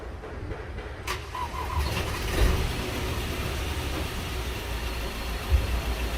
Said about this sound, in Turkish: Şimdi aracı çalıştıralım.